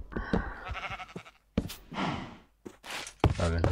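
Several Minecraft sheep bleat in bursts among blocky footsteps and thumps, near and fairly loud, with short gaps between calls.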